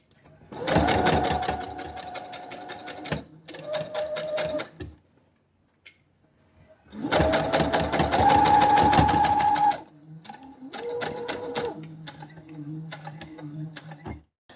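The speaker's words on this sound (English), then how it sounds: "You're going to take a top stitch right around the edge." A sewing machine topstitches around the bound neckline of a floaty summer top in close, loud bursts of rapid needle chatter, stopping and restarting with short pauses and a silent gap between runs.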